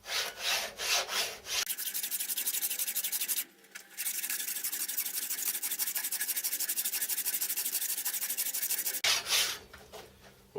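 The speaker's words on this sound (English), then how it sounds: "I'll glue the spindle head and hand scrape this down to a fairly consistent full contact area." Hand scraping of a metal spindle head bearing cap for a home-built milling machine makes a steady, close rasping scrape that runs continuously for several seconds, with shorter strokes at the beginning and end.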